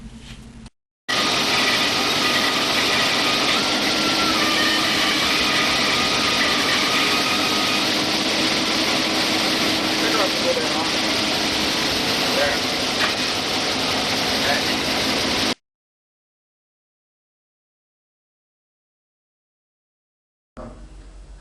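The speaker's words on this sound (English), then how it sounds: "In this clip, you can see that the unit is easily maneuvered into place with a winch." A steady, loud mechanical drone runs for about fourteen seconds as an RT Tools pole puller unit is winched into place, then cuts off into silence.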